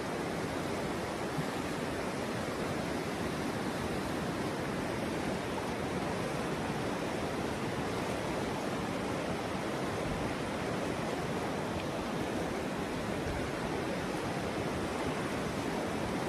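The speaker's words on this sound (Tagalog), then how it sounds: "Ito yung Abra River." The Abra River rushes beneath a footbridge at a tri-boundary, a dense, steady roar of flowing water that stays loud and unbroken throughout, with no voices.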